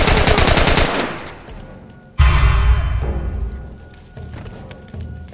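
Automatic gunfire from The Last of Us Remastered on PS5: a dense rapid burst of loud shots, then a heavy blast with a decaying rumble and a few scattered thuds.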